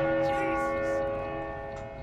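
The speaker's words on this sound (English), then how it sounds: "So this bell ring is gonna alert people what we're doing." A bell rings in the video game Uncharted 4, a sustained metallic tone that rings out and slowly fades, with faint game ambience around it.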